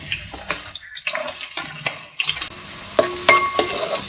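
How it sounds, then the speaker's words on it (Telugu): Chopped onions fry in hot oil with cinnamon and cloves for a mutton chana dal curry, a close sizzle broken by sharp scrapes and clatters of a spoon in the pan. "ఈ ఉల్లిపాయలు కూడా చక్కగా దూరగా వేగనివ్వండి"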